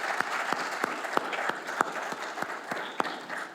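Applause from an audience at a lunchtime conversation event, a dense patter of many hands with a few sharper individual claps standing out, steady and moderately loud at mid distance.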